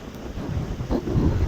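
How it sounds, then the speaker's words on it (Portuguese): Strong south wind buffeting the microphone on a beach at Barra do Sul, a loud low rumbling roar with a rough sea behind it, no talking. "Uma ventania."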